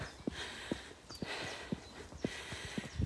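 Hooves of a young gelding on one of its first rides clip-clop along a farm lane, a steady walking rhythm of crisp, evenly spaced strikes over a soft outdoor background.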